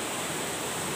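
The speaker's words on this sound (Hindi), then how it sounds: "और पानी का शोर आप देख सकते, बल्कि सुन सकते हैं" Rushing water of a spring in Soon Valley, Khushab, a loud, steady broadband roar filling the whole moment with no let-up, close by and alone.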